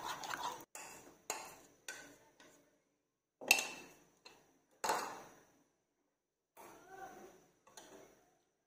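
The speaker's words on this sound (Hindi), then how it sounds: "इसको हमने अच्छी तरह मिक्स करना है" Custard powder is stirred into hot milk in a pot, with a spoon clinking and scraping in short separate bursts and quiet pauses between them.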